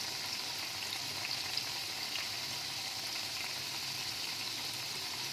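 Potatoes fry in oil over a high gas flame, giving a steady, close hiss of sizzling that holds level throughout with no stirring or talk.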